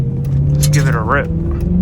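An engine in a 2008–2010 car with an added paddle-shift kit gives a quick rising rev over a steady low rumble, loud and close, in a brief burst.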